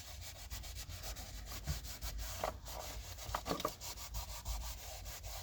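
A cloth or pad wiping and rubbing surfaces on a 2011-2016 Ford F-series truck, with quiet, steady back-and-forth strokes.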